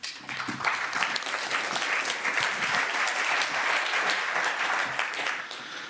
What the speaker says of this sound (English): and you can give them an applause.